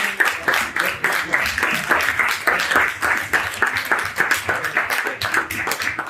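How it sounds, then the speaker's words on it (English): Round of applause at a rites-of-passage graduation ceremony, a steady crowd clapping throughout with dense overlapping claps and some voices mixed in underneath. "We want to give you a round of applause first"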